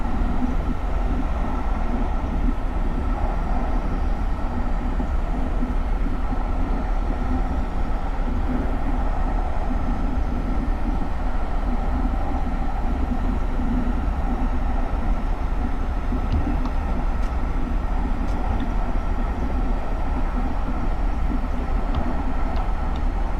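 SEPTA GE Silverliner IV electric multiple-unit train in Train Simulator 2019 rounding a sharp curve on the Trenton Line, a steady loud rumble of wheels and running gear with faint high squeals, continuous with no talking.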